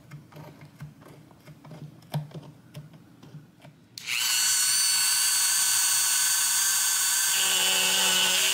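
Several seconds of light tapping and clicking, then a loud, steady high-pitched power drill whines continuously up close until the end, drilling through a fret area on a 1972 Gibson Dove Custom guitar neck.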